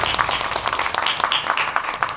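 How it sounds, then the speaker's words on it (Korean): Audience applause at a film talk event for the movie Dream Palace, with dense, lively hand clapping from a crowd sustained evenly throughout, close and bright. "다시 한번 큰 박수 부탁드릴게요"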